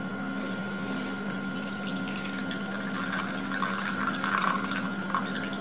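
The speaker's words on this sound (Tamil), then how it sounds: "இந்த தண்ணியை வந்து ட்ரைன் பண்ணிக்கலாம்." Water from boiled hair mask ingredients is drained off in a continuous pouring trickle, steady and fairly close with a few brighter splashes toward the end.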